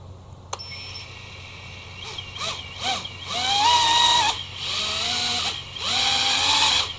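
A 3-inch aluminum-frame quadcopter drone's beeper sounds several times in a row, loud and close, starting with a short click and then rising, warbling tones that run on in bursts.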